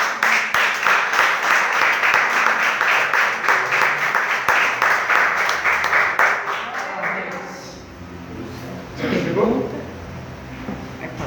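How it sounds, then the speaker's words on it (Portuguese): Sustained dense applause from a church congregation fills most of the stretch, then fades into murmuring voices and a brief louder burst of sound near the end. "Vamos aplaudir o Senhor"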